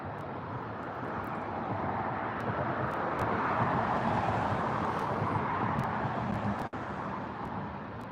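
An EasyJet Airbus A320 arriving from Ibiza lands at Gatwick, a steady broadband jet roar that swells toward the middle and holds loud and near throughout, with a brief dropout near the end.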